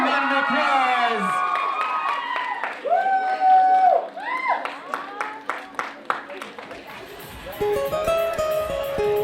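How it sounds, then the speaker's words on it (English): Guests at a graduation party clap and cheer, mixed with whoops and excited voices, while a singer's melodic vocal line carries over the top before the applause rises more fully near the end. "Ladies and gentlemen, give her a big round of applause."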